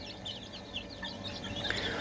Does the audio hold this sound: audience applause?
no